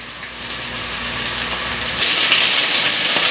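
Lamb pieces browning in a hot pan for stew give a steady, loud sizzle and frying crackle throughout, growing slightly brighter toward the end, with no voices over it.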